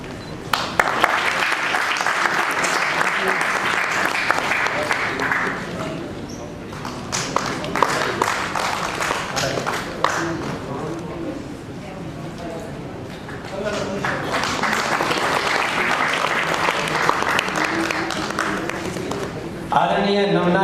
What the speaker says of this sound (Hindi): आप जोरदार अभिनंदन करिए तालियों से।